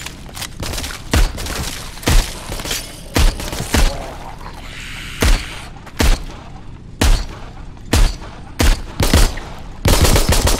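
Gunshots in a VR zombie survival co-op game, a dozen or so sharp, loud single shots fired at irregular intervals of roughly half a second to a second and a half, close and punchy with short decays, no talking.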